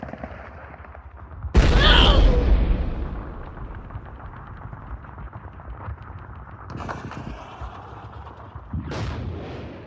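Battle scene with grenade explosions and gunfire: a loud blast hits early with a rolling rumble that fades, followed by ongoing distant crackling fire and two further sharper bursts, all heavy and booming.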